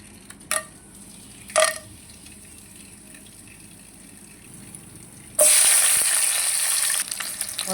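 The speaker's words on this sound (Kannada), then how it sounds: "ಇದು ಸ್ವಲ್ಪ ಗರಂ ಮಸಾಲ ನಾನು ಎಣ್ಣೆಯಲ್ಲಿ ಹಾಕ್ತೇನೆ" Garam masala and onions drop into hot oil in a kadai and start a loud, steady sizzle that lasts to the end. Before it, a quiet kitchen stretch carries two short clinks.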